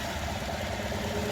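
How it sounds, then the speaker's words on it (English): Direct-injection engine on a 2015 GMC Sierra pickup idles steadily up close, a continuous mid-pitched hum with a faint, even ticking running through it and no one speaking. "They are direct injection, so you hear a little bit more tick than you're used to on like an LS engine."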